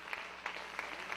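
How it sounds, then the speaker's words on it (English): A church congregation claps hands in praise during a sermon, four evenly spaced claps in a steady rhythm, fairly faint against a reverberant room hum. "let's clap our hands to the Lord"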